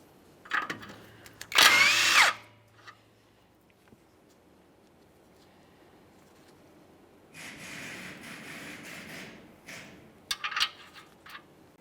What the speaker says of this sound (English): Let's go ahead and remove that nut, a quick inspection, and start it back on just a couple threads.